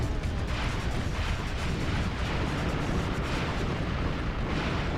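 In Ratchet and Clank, weapon fire at a bomb rolls as dense, continuous rumbling blasts and booms, steady and loud throughout.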